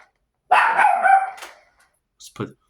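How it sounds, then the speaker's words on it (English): A dog gives a run of loud, close barks for about a second, followed by a couple of shorter yips after a pause, reacting to knocks at a door indoors. "she barks at the knocks on the door"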